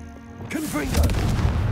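Confringo explosion spell cast in Hogwarts Legacy, a sudden whooshing burst about halfway through that swells into a heavy, loud rumbling boom over game background sound.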